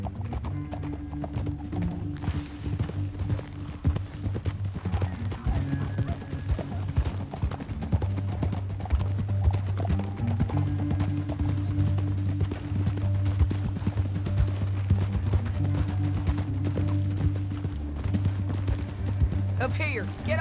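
Horse hooves in a galloping clip-clop rhythm from Red Dead Redemption 2, steady and continuous under a low rumbling game soundtrack and scattered game noises, with no clear talking.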